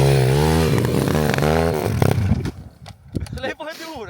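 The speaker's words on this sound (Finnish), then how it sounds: "Mopo käynnistyy." A moped engine starts and revs on a winter ice-fishing trip, its pitch rising and falling loudly for about two seconds before it drops off under nearby voices.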